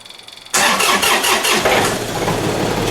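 A tractor engine cranks over and catches at about half a second, then runs loudly and steadily at a rough idle, close by, with no talking.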